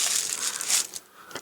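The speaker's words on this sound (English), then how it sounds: "Then I'm going to lift it up, twist it round," Plastic carrier bag crinkling as a piece of it is lifted and twisted by hand while crafting a flower, with close, brittle rustles for about a second that fade out, plus a faint final crackle.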